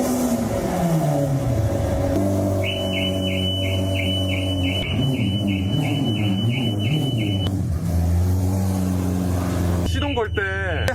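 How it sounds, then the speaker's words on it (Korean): A car's warning chime pulses in a quick, evenly spaced series of high beeps for several seconds, with a running engine rumbling underneath and people talking over it throughout. "차 경고음이 울리네"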